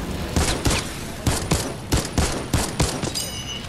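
Golden infiltrator rifle firing in a video game, about eight loud, sharp shots in a steady rhythm roughly half a second apart, each with a short rumbling tail, close and clear with no talking.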